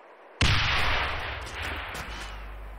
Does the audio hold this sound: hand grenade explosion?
yes